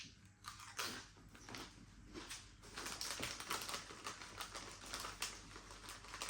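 Walkers crisps being crunched while eaten, giving repeated close, dry crackling bites and chewing that carry on through the whole stretch.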